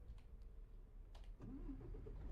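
A Volvo FH4 truck engine starting in the TruckersMP driving game, a short cranking catch that settles into a low, quiet idle hum after a few faint clicks.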